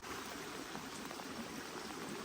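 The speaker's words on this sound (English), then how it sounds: "That creek is very high right now." A swollen, fast-running creek during a thunderstorm camping trip rushes steadily close by, a continuous broadband wash of water with no pauses and no voices.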